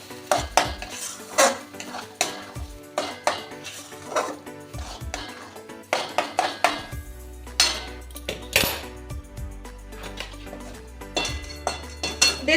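A spatula scrapes and clanks repeatedly against a wok while a thick chana dal and chhana mixture with ghee and hing is stirred over low gas, loud, rhythmic metal strikes and little talk.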